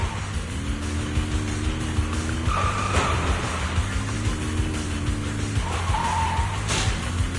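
A car engine hums along with tires skidding and squealing in short bursts in the Zenless Zone Zero game, the engine tone rising and falling under loud, dense background noise.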